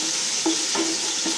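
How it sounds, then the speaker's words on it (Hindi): Onions fry in oil for curry pakora with a steady close hiss. Three light stirring scrapes break through it. "ऑयल डाल लिए तो अब मैं इसमें प्याज"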